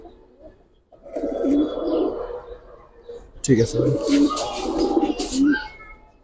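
Giribaz pigeons coo in repeated throaty, rolling bursts close by, while someone speaks briefly over them.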